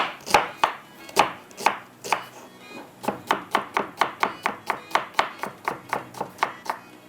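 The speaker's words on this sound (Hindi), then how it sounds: "एक प्याज ले लेते हैं, इसको भी हल्का सा हम चॉप करके डाल देते हैं" An onion is chopped on a board in a home kitchen, about two dozen sharp knife strikes, sparse at first and then quick and regular, close and crisp with no talking.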